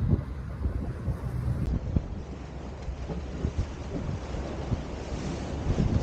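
Sea waves washing on a spectacular day at a fishing spot, a steady rolling surf wash with gusts of wind noise buffeting the microphone throughout, no voices.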